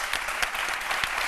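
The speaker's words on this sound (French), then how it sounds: "les applaudissements qu'on nous connaît" A television studio audience claps briskly throughout, a dense steady patter of many hands at close range with a few louder bursts and no voices over it.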